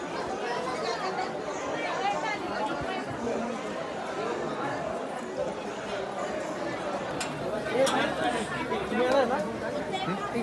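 A large crowd of pilgrims chattering at Jyotiba temple, a dense, continuous murmur of many voices close around, steady throughout with occasional louder calls and clacks.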